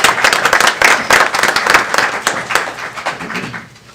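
Audience applause at a county commissioners meeting, a smallish group clapping in a loose scattered rhythm that fades out over a few seconds.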